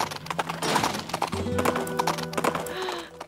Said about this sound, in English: I'm gonna ride a horse.